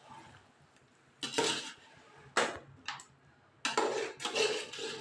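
Country chicken being stirred gently in oil in a cooking pot for a gravy over a low flame, with a few scattered spoon scrapes and clinks against the pot between quiet stretches.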